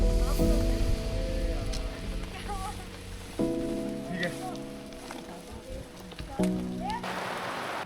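Heavy rain falls on the Kedarkantha trek, a steady hiss of drops on surfaces close by, with low tonal sounds starting and stopping in the background.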